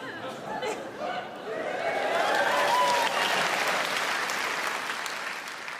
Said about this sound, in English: why would you clap?